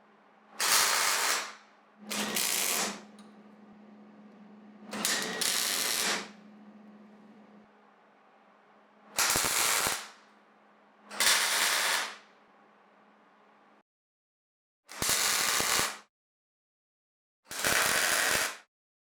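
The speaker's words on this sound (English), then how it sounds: "As I tack all the pieces in one at a time" Welder tack welding steel bracket pieces on a Jeep Comanche: seven short crackling bursts of a second or two each, separated by pauses, with a steady low hum underneath during the first half.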